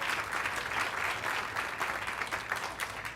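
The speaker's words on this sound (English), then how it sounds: "Let's give Senator Mitchell and Senator Gaines a round of applause." A seated political audience applauds two senators during a mayor's inaugural speech, a dense, sustained burst of many hands clapping at even strength throughout, fairly close and with no voices over it.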